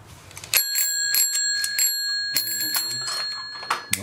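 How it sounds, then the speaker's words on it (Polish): A bicycle bell on a commuter bike rings close and loud, several bright metallic dings repeated in quick succession with a little handling noise between them. "Ale patrzcie, tu dzwonek jest."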